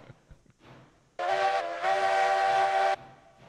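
A loud steam-style train whistle from a locomotive in the Railroads Online video game sounds in two blasts, a short one followed by a longer sustained one, after a quiet rumbling lead-in.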